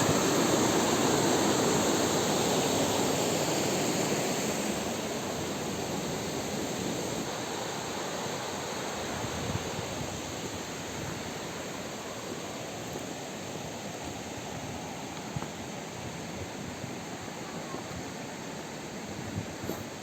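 Mençuna Waterfall near Arhavi, heard as a steady broadband rush of falling water, loud and continuous, easing slightly after the opening seconds, with no talking.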